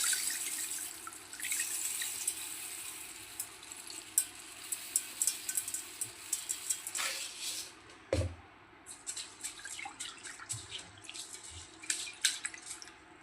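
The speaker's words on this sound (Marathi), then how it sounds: "राईस पाण्यामध्ये भिजू घालूया" Water is poured over rice in a pot for soaking before cooking a Hyderabadi chicken dum biryani, with a splashing flow that breaks into scattered drips and light clinks.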